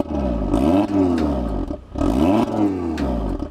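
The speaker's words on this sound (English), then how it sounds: "Let me give it a rev, see if it changes." An Audi engine revved twice at a press event, each rise swelling into a loud throaty roar that sweeps up and falls back before a short gap, close and with no talking.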